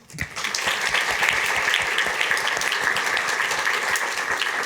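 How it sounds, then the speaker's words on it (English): A crowd applauds after remarks by Chicago's housing commissioner, the clapping swelling in quickly and holding as a thick, continuous patter of many hands, fairly loud and without talk. "So please, a round of applause, please."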